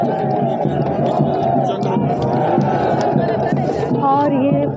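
Loud, dense crowd of devotees at the Kedarnath doli procession, a continuous roar of many voices and cheering close around, with chanting-like tones rising near the end.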